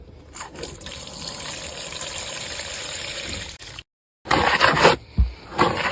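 Water poured into a soil blocking mix makes a steady, close trickle for a few seconds. It stops briefly, then gives way to wetter splashing and handling noises.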